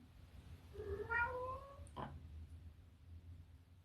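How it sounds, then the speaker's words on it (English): A house cat gives one drawn-out, rising-and-falling meow close to the microphone, followed by a brief soft sound, in a quiet indoor room. "You hear my cat? My cat's saying hi."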